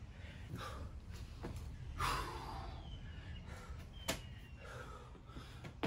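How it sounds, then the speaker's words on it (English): Heavy breathing after a workout comes as repeated loud gasping inhales and exhales close to the microphone, with a few sharper puffs and faint thuds between breaths. "So if you're breathing hard, like I am, that's a good thing."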